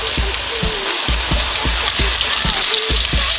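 Garlic frying in a pan with oil for beef lo mein, a steady loud sizzle and crackle throughout, punctuated by soft regular thuds as it is stirred.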